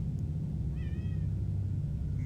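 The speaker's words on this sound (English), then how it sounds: "Big fat kitty." A single short cat meow, fairly faint, rises briefly above a steady low rumble of background noise.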